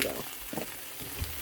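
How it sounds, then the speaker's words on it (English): Sausage dressing vegetables with onion, salt and pepper get stirred in a cast iron pan, giving a short, close burst of scraping and soft sizzle with a few distinct stirring strokes. "Stir this all up"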